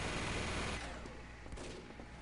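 Rapid minigun fire aimed at an enemy sniper in Team Fortress 2, a dense continuous burst that is loud for under a second and then tails off into quieter rattling and scattered game noise.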